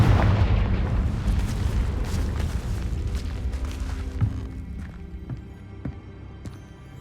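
The Confringo explosive spell in Hogwarts Legacy bursts with a heavy, booming blast at the start, its rumbling tail fading over several seconds into quieter crackles and small impacts.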